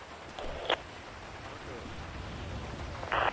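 Rain hisses in a steady, fairly faint wash, with a couple of brief brighter bursts of noise standing out above the downpour.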